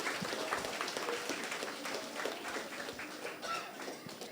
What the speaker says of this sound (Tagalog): malakas na palakpak po para sa ating mga kabataan